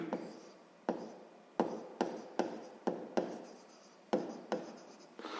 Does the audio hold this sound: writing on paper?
yes